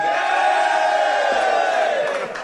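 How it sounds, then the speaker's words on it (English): A group of football fans in a bar, Liverpool supporters, let out a loud, sustained roar and cheer together up close, fading slightly at the end. "Give us a cheer, lads."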